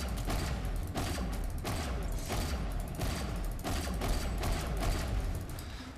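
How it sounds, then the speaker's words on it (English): Semi-automatic sniper rifle fired repeatedly until it overheats in the game Planetside 2, a steady run of loud, evenly spaced shots roughly every half second with a dense rumbling background and no talk. "I want to see how many shots off I can get before you fully max out the heat."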